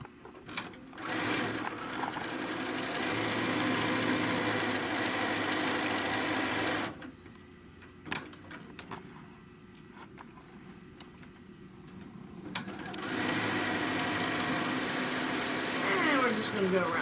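A sewing machine stitches a 1/4 inch seam on a bag, its motor running loud and steady in long close runs, pausing midway with quieter handling noises before stitching again.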